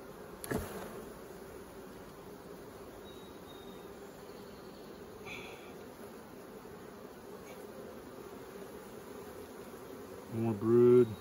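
Honey bees drone steadily during an inspection of an emergency split beehive, a soft continuous buzz close to the microphone with a couple of brief knocks near the start and end.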